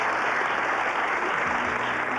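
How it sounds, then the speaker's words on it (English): A game show studio audience breaks into a steady round of applause, dense and continuous throughout, with a faint low tone entering near the end. "Yes, nice round of applause."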